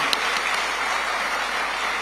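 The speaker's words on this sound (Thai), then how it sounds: "ขอเสียงปรบมือ เป็นกำลังใจให้ท่านนายกรัฐมนตรีอีกครั้งค่ะ" Audience applause for the prime minister at a Thai political party gathering, a continuous, even roar of many hands clapping at moderate loudness with no talk over it.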